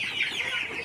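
A brief burst of clucking from a flock of Sonali local cross chickens on a farm, steady overlapping calls close by without any voices.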